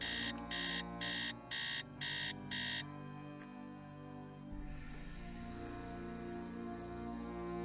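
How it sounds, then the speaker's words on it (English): Electronic alarm beeping in the Nancy Drew game Message in the Haunted Mansion: six loud, evenly spaced beeps in quick succession, then it stops and a low ambient hum and rumble carries on alone. "Beep, beep, beep."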